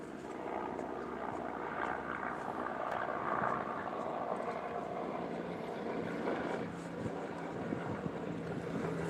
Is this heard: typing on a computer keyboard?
no